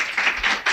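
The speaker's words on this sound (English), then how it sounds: "I think that deserves a round of applause" An audience gives a round of applause: a brief, dense wash of many hands clapping together, steady and fairly loud, with no voices over it.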